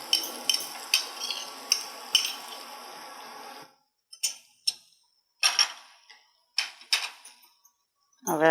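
A utensil stirs Schezwan sauce into fried rice in a pan, giving a run of sharp clinks and scrapes at an uneven rhythm, close and moderately loud, broken by short silent gaps.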